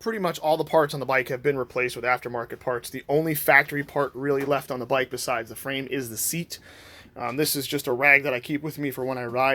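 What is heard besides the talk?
No everyday noises stand out.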